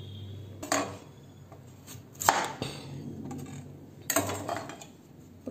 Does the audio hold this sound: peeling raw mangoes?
yes